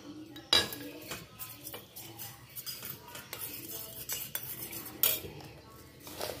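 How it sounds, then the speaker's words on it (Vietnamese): A spoon clinks and scrapes around a bowl as tapioca starch and water are stirred together, with irregular metallic taps and swirls, fairly quiet and close, with no talking. "Cho miếng nước vô mình khuấy nha các bạn. Khuấy cho nó tan ra."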